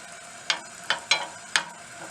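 Cashews frying in ghee in a pan, with four short sizzling bursts as they are stirred, close and fairly loud with no talking.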